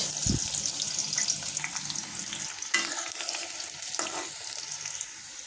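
Panch phoron, dried chilies and onion frying in oil sizzle steadily up close, broken by a few stirring scrapes and knocks of a utensil against the pan, with no talking.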